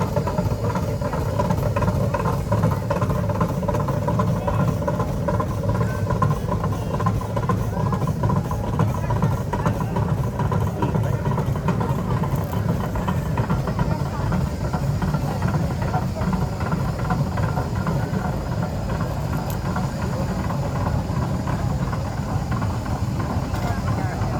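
A steam traction engine at a steam rally runs with a steady, heavy rumble throughout, a loud mechanical chugging drone with a faint rhythmic pulse and a voice murmuring underneath.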